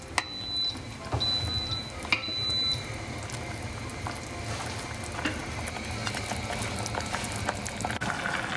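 Kimchi tofu stew boils steadily in a pot, giving a continuous close bubbling simmer with scattered pops and a few faint high beeps near the start.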